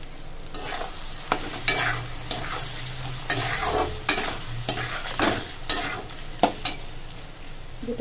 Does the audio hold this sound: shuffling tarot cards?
no